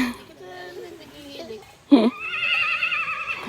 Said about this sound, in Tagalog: Ayun yun, yung kabayo.